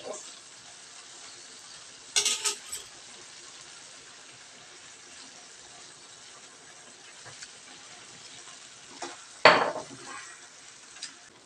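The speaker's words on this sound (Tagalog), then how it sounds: "Haluin lang natin paminsan-minsan." Bicol Express cooks in a pan with a soft, steady sizzle, broken by a few sharp clinks and scrapes of a utensil stirring against the metal, close by with no talking.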